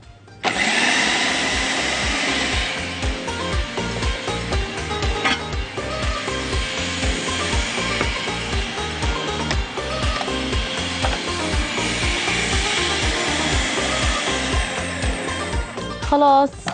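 Food processor chopping chicken kofta ingredients with parsley, salt and pepper, a loud steady motor whir with a fast rhythmic chopping pulse that runs continuously before cutting off at the end.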